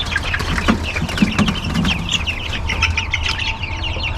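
Agitated meat chickens in their third week cluck and squawk in repeated bursts over a steady farmyard hum, close and fairly loud, with nobody talking.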